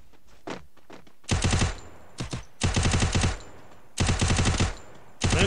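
Rapid automatic gunfire in a video game, several loud bursts, two long volleys separated by shorter clusters of shots, close and sharp.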